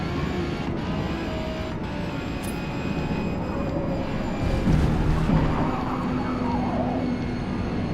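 A race car engine in the Forza Motorsport video game on PC, running out of fuel near the end of a track: a loud, constant mechanical drone with shifting tonal whines and a brief surge midway.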